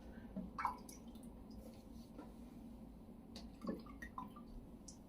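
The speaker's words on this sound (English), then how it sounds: "just a quick rinse as far as the alum is concerned." Faint splashes and drips of water as alum is rinsed off a freshly shaved face, a few soft wet squishes scattered over a quiet hiss, close and gentle.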